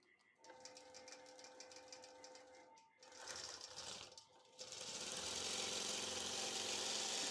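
A longarm quilting machine runs while stitching a quilt, a steady whirring mechanical hum with a brief pause near the middle, then rising louder and brighter toward the end.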